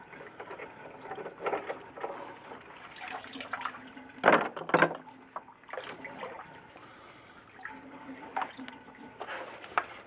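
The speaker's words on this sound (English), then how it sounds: "Okay, it's just a siphon overflow." Water gurgling and trickling through an aquarium siphon overflow, a steady close wash of flowing liquid with irregular louder splashy bursts and slurps, heard alone with no talking.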